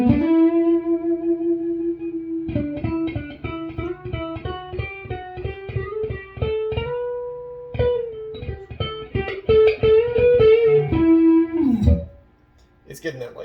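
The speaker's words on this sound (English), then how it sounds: "It's getting that like singing, sustain, and distortion right there." Electric guitar played through a RedBear MK 120 overdrive pedal cranked toward a classic rock lead tone: sustained, singing distorted notes, then quick picked runs and held bends that end with a slide down and a fade.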